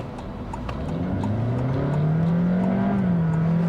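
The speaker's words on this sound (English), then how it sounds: "the CVT is stepping, so it sounds like a normal automatic transmission" A 2023 Honda HR-V e:HEV hybrid accelerating while its CVT steps through simulated gears like a normal automatic, heard from inside as engine drone rising in pitch, then dropping at a shift and climbing again, steady and fairly loud with no talk.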